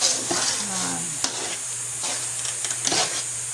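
A spoon stirring thick chocolate rice porridge in a pot, scraping and swishing in short repeated strokes over a faint sizzle, with brief background voices.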